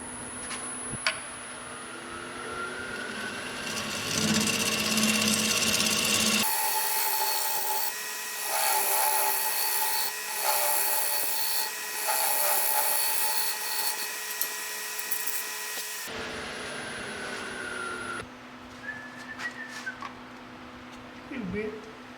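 A wood lathe spins a pecan and epoxy blank as a tool cleans it up and cuts a tenon, giving a sustained rubbing, scraping whir that rises and falls in a long pass, with some talk around it.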